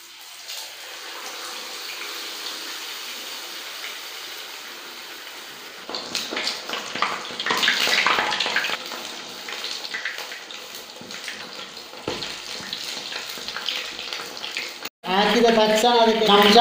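Mackerel nuggets coated in masala are lowered one by one into hot oil, raising a steady broadband sizzle that grows louder and busier partway through, with occasional clatter and a voice speaking over it near the end.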